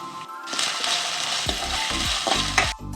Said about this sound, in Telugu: కొంచెం అల్లం వెల్లుల్లి పేస్ట్ కూడా వేసి వేయించుకుందాం